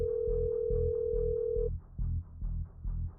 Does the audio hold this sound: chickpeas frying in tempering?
no